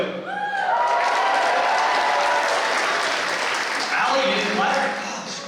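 Loud applause from a school assembly audience fills the room with dense, sustained clapping that gradually fades. Voices can be heard over it.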